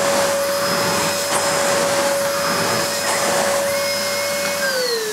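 Nilco Fakir S12 tub vacuum cleaner running over fitted carpet, a steady close motor whine with a sustained tonal hum that dips slightly in pitch near the end, continuous with no talking.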